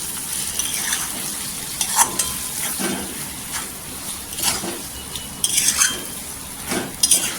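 Smoky brinjal bharit with coriander stirred in a pan after the gas is turned off, a soft sizzle under repeated metal spoon scrapes and clinks against the pan, close and uneven in rhythm.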